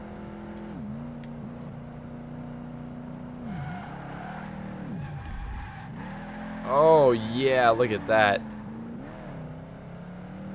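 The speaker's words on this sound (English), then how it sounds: "I actually impress myself sometimes with like my drifting abilities." A video game car engine in Project Gotham Racing 2 whines and revs through a drift, its pitch swinging up and down, with tire squeals near the end and someone talking over it.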